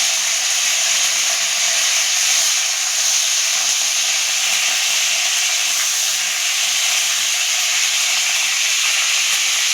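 Curry leaves tossed into hot oil with toasted fenugreek seeds in a pan for a garlic kuzhambu, giving a loud, steady, close hiss that lasts the whole time with no talking.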